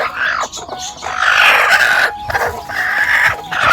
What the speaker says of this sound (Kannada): ನೋಡಿ, ಇವಾಗ ಒಂದೊಂದಾಗಿ ಬರ್ತಾಯಿದೆ ಮರಿ